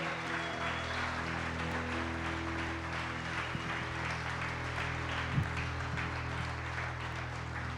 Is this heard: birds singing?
no